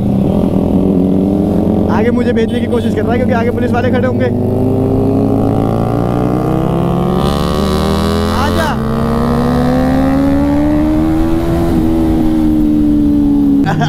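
A superbike rides along a city street, its engine pitch climbing steadily through the gears with a sustained close-up drone, while people talk over it.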